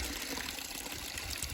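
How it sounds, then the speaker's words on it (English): Running water runoff beside a village trough in the UK countryside, a close, steady trickling and pouring of water, brief and continuous with no talk. "from the running water"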